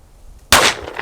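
One sudden, loud, close gunshot from a Dan Wesson 744-V .44 Magnum revolver on an outdoor 25-yard range, a sharp crack that rings on briefly after a quiet lead-in.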